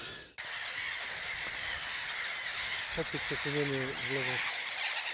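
Seabird calls ring out over a steady wash of wind and surf: a few short squawks, then longer harsh calls layered from several birds.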